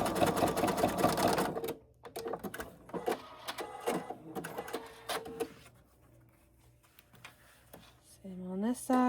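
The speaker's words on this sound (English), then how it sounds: "I'm just literally going to do the zigzag stitch." Sewing machine running a zigzag stitch on a small travel case project, short bursts of rapid mechanical stitching with pauses, heard near the mic alongside a voice talking.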